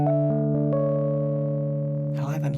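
A sustained Electric Keys electric piano chord from Timber Duo rings out cleanly and evenly, holding steady for a couple of seconds before a burst of noisier tones at the end.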